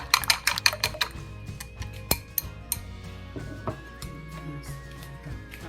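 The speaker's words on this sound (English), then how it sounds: "So we'll mix it. Look at the yellow part and white part mixed well." Eggs are beaten in a bowl for scrambled eggs with pork, making quick irregular clicks and clinks of utensil against the bowl, with a few sharper taps, close and fairly quiet.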